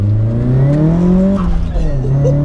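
A 2002 Nissan S15 Spec-R turbo engine pulls hard under acceleration, its rising engine note loud and steady from inside the car, with a brief shift dip midway before climbing again.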